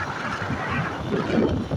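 Steady broadband rush of water churning from the open turbines of Mangla Dam, loud and continuous, with a low rumbling roar and some wind buffeting on the microphone.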